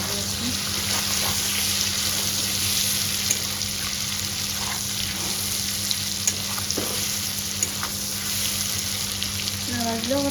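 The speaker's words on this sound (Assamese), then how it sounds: "পনীৰ ভাজি আছে।" Paneer fries in a pan with a loud, steady sizzle and occasional stirring scrapes, a continuous close-up crackle throughout.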